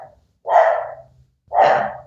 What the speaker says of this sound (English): Your dog's upset about it.